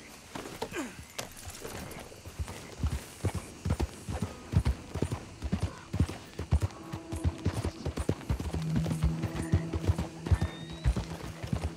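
A horse trots in Red Dead Redemption 2, hooves clip-clopping in a steady, close rhythm throughout, with light gear rattle and a faint tonal game sound near the end.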